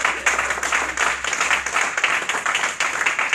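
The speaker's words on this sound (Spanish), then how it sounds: "aplauda al Señor" Church congregation applauding together, a steady dense clapping that swells and holds throughout, loud and close with no talk over it.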